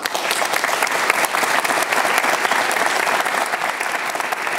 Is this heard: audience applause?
yes